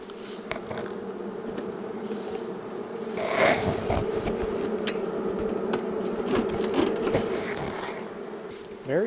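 Honeybees buzz steadily and loudly from an open hive during an inspection, a dense continuous drone with a few closer passing buzzes.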